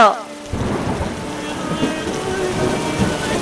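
Heavy rain pours down steadily and loudly, with thunder rumbling beneath it, starting after a brief quieter moment and continuing without pause.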